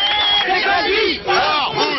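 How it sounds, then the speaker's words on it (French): Crowd of left-wing opponents outside a town hall in Puteaux booing and whistling at returning demonstrators, shrill rising and falling whistles over a loud jeering mass of voices, close and continuous. "Le retour des manifestants à l'hôtel de ville s'est fait sous les sifflets d'opposants de gauche."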